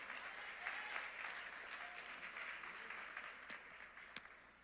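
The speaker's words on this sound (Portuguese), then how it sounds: "Aleluia, pode aplaudir." A church congregation applauds at a family worship service, a steady wash of many hands clapping at moderate distance, fairly quiet, with a couple of sharper claps standing out near the end.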